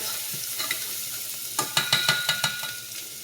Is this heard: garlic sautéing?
yes